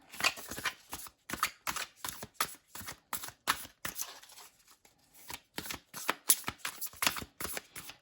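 A deck of stiff playing cards shuffled repeatedly up close, with crisp riffling bursts in a steady rhythm, a brief pause midway, then more shuffling.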